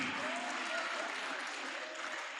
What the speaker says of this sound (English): You better clap again.